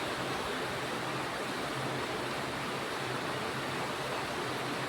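Heavy stormy rain pours down outside a home balcony, a dense, steady hiss of falling water that stays loud and unbroken throughout, with no voices.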